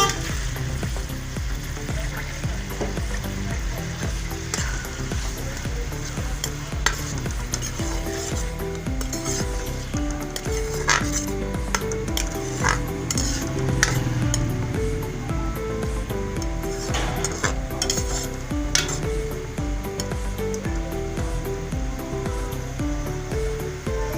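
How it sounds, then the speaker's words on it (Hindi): Onions sizzle and fry in hot oil for a beef karahi curry, a steady dense crackling hiss lasting throughout, with occasional stirring clicks and no talking. "ऑयल हमारा गरम हो गया है। अब इसमें प्याज डाल रही हूँ।"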